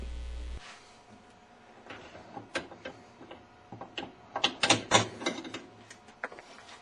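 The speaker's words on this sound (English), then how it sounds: "Install the agitator holding screw, the regular one or the plastic one, whichever one you have, and tighten it" Tightening a holding screw into a Whirlpool washing machine agitator, heard as a run of close, crisp mechanical clicks and ratcheting ticks that grow denser and louder toward the end, with no talking.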